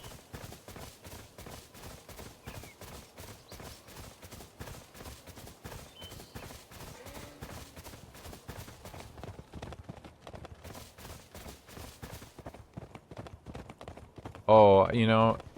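Horse hooves clip-clop in a steady, rapid rhythm in the video game NieR: Automata, moderately loud throughout, with a voice speaking briefly near the end.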